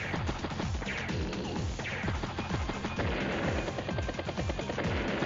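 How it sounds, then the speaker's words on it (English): Advance Wars: Days of Ruin battle animation as an artillery unit hits an anti-air unit, a dense rapid barrage of repeated booming shots and crashing impacts, steady and loud. "Artillery strikes the anti-air, does take it out."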